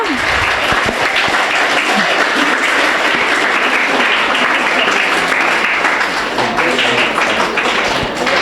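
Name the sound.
children clapping, applause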